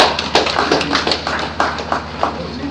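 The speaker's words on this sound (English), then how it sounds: "Please, let's give Dr. Kenny Oteje a round of applause." A conference audience at a national conference and induction gives brief, sparse applause: a few scattered handclaps rather than a full ovation.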